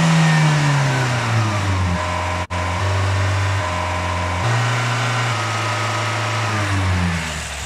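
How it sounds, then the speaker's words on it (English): A loud, close car engine revving and shifting through low droning tones, pitch sliding between gears, with a brief cut partway through. "those little explosions in a car engine"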